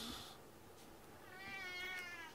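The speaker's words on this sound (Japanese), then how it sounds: "猫のおたけび" A cat yowls indoors, a drawn-out wavering cry that swells and fades over about two seconds, close and fairly loud against a quiet room with no talking.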